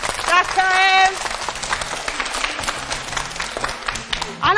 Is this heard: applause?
yes